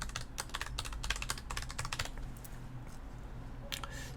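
Quick bursts of keystrokes come from a computer keyboard, close and fairly quiet, dense at first, then pausing before a few last taps.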